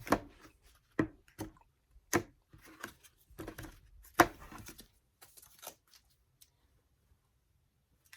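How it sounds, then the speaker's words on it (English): Tarot cards being shuffled in a quick series of crisp riffles and flicks, several sharp bursts close by over the first five seconds, then a few faint taps trailing into quiet. "All right, one more shuffle."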